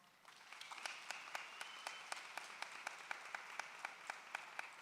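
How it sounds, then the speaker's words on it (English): Applause for graduates at the Epic Academy 2021 in-person graduation ceremony, faint and distant, a steady wash of clapping with regular sharper claps standing out near the microphone. "So again, round of applause."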